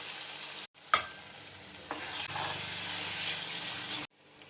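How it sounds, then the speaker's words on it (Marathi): Masala of ground coconut paste, coriander and dried fenugreek cooking in oil in a pan, starting with a sharp clank, then a loud, dense continuous sizzle with scraping stirs, close up and without speech, ending abruptly. "आता या मसाल्याला पुन्हा तेल सुटेपर्यंत शिजून घेऊया"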